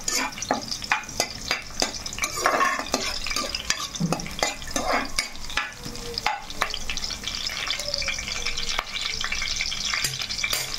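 Green chillies fry in a pan, giving a steady close sizzle with frequent sharp clicks and scrapes of a spoon stirring against the metal; no voices.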